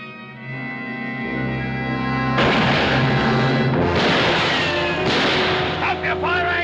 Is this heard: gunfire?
yes